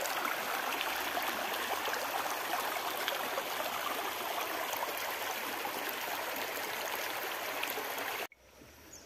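Clear mountain stream water flowing steadily and close by, a constant rushing wash that holds for about eight seconds before cutting off abruptly, with no voices over it.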